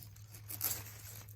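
A single soft snip and tear as a stem of purple sprouting broccoli is cut from the garden plant, brief and close, over a low steady hum.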